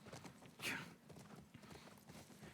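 Horse hooves clip-clop steadily in The Last of Us Part 1, a video game, with one brighter whinny-like burst early on over a continuous background bed.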